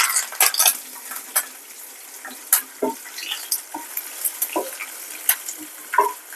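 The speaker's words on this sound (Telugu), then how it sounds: "ఇప్పుడు కరివేపాకు వేద్దాం." Curry leaves hit hot oil in a pan for a gongura dish, giving sharp bursts of crackling and sizzle with scraping stirs and occasional clinks of a utensil against the pot, fairly close and with no talking.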